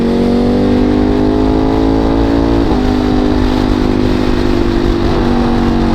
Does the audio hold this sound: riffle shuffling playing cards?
no